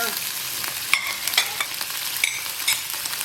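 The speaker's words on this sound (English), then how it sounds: "we're just going to start stirring this a little bit" Shallots, garlic, candlenuts and chili pepper frying in a pan for Manadonese basil chicken, a steady close sizzle broken by a few sharp scraping stirs of the spoon, with no talking.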